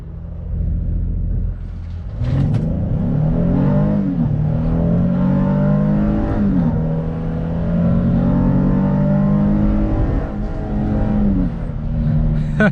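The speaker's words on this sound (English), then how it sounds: "Well, that engine made a lot of sound, a lot of noise." Engine of a 2021 Honda Pilot Special Edition in sport mode accelerating hard from a stop, a loud steady growl climbing in pitch through several gear shifts, heard from inside the cabin with no talk.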